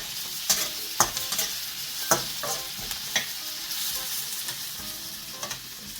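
Onions and green beans sizzle steadily in a hot pan, with sharp clinks and scrapes of stirring scattered throughout.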